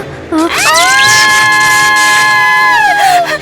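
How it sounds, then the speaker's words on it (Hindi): A loud, eerie, high-pitched scream rises and holds a long wavering tone for a few seconds before dropping away. "मैंने ये चीख पहले सुनी है। ये बहुत डरावनी है।"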